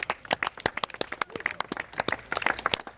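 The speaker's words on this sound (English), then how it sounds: "Landed, your applause, please." A small audience at a vans-and-drones demonstration claps after a drone lands on a van roof: a short burst of distinct, fairly close handclaps, uneven and scattered rather than a dense roar.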